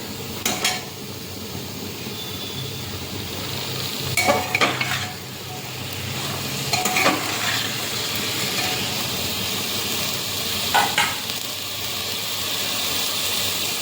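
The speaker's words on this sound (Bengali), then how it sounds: "লবণ দিয়ে একটু ভালো করে নাড়াচাড়া করে নিই।" Salted vegetables fry in a pan with a steady close sizzle and hiss, broken by several scraping stirs of a spatula spaced through the stretch.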